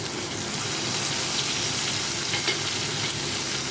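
Corn kernels stir-fried in a pan give a steady, dense sizzle with soft stirring scrapes underneath, close and continuous with no talk.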